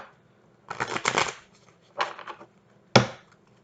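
Playing cards shuffled in three quick riffling bursts, close and crisp, the last one a short sharp snap.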